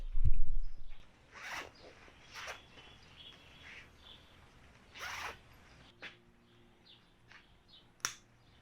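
A protective shield cover is zipped onto a MIG welding gun cable in several short, close zipping strokes, followed by quieter rustles and a sharp final click.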